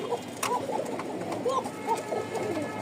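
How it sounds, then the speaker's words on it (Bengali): A pair of pigeons, a red male and a female, coo in repeated soft throaty phrases close by in a loft, with faint talk in the background. "ককার ডাক দেখেন, ডাক আছে খুব সুপার ডুপার"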